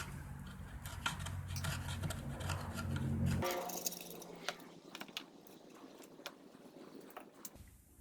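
A knife and tweezers scrape and pick at debris wound around the shaft of a jammed Bissell vacuum brush roller: quiet, close, irregular clicks and scratchy snips, with a low rumble that stops partway through.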